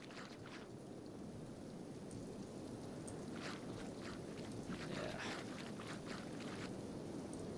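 Steady rain falling in the Kenshi video game, a continuous hiss of downpour with faint scattered patters, holding at an even level throughout with no voices.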